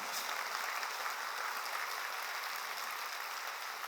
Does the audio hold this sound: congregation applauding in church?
yes